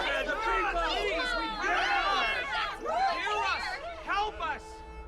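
Excited crowd chatter at an assembly in the video game Honkai: Star Rail, many overlapping raised voices and shouts close by in a dense, swelling babble.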